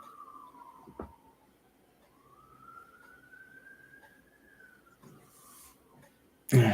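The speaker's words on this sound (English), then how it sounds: "You can hear sirens in the background." A faint, distant siren wails up and down in long sweeping tones, with a few soft knocks and a sudden loud bump at the end.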